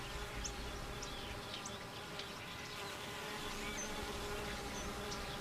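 Steady, dense buzzing of many honey bees, a continuous hum with occasional closer passes rising above it.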